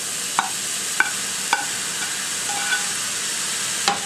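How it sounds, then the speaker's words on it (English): Ground beef sizzles in a pan for a low-carb broccoli slaw, a steady frying hiss broken by a few sharp, scattered spoon taps as it is stirred, with no talking. "So it's time for me to add the ground beef."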